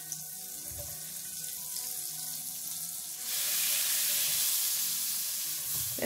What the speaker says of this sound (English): take a pan and add 3 tablespoons of butter or ghee, whatever you have at home, and just let it melt